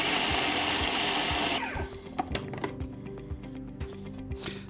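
A food processor grinds chickpeas for falafel, a loud steady whirring grind for about a second and a half that then cuts off, leaving scattered clicks and knocks of the machine settling.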